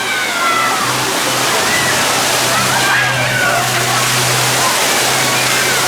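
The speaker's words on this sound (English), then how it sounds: "get your hose pipe out there" A garden hose sprays water onto flowers in a park, a steady loud rushing hiss that runs throughout, with a faint engine-like hum beneath.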